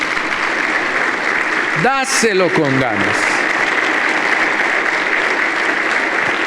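Church congregation at a Sunday service applauding continuously throughout, loud and sustained, while a voice speaks briefly over the clapping.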